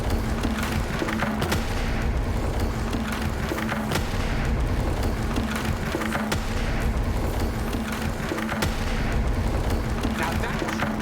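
The Bombarda blasting spell in Hogwarts Legacy sets off a barrage of sharp booms and splintering cracks, repeated blasts and crashing debris over a loud, constant rumble of battle.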